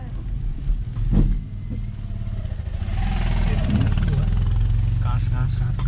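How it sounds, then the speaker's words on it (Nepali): A motorbike passes on a gravel road near Pharping Dam, its engine rising into a steady buzzing drone that continues to the end, while people talk over it at first. "ल बाइक गइरहेको छ"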